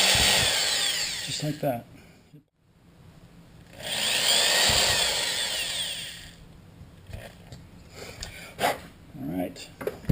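A power drill bores small holes through the thin wall of a Bud Light aluminum can stove, its whine rising in two sustained bursts with a short pause between, followed by scattered clicks and handling noise while someone speaks briefly.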